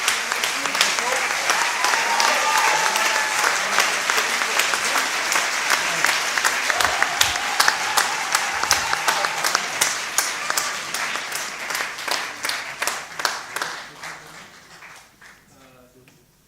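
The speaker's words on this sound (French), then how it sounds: "On l'applaudit, s'il vous plaît." An audience at a film festival closing ceremony applauds steadily, a dense wash of clapping that holds strong and then gradually thins and fades toward the end, with a voice briefly over it.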